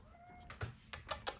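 A house cat gives a few short, faint meows in quick succession in a quiet room, each call brief and close together.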